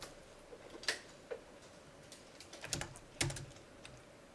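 Code being typed on a computer keyboard during a C++ programming lecture on array loops, scattered key clicks and a few sharper taps, close and fairly quiet over a low room hum.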